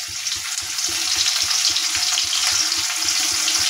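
Onions frying in oil in a wok set over a gas flame, a steady close sizzle and crackle running throughout with faint stirring scrapes underneath, no voices.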